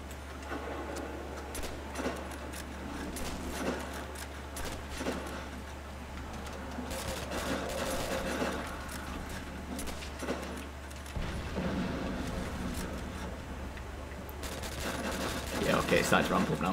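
Gunfire from Call of Duty: World at War in Zombies mode, with repeated shots popping through a busy game mix of effects and music while players talk over it.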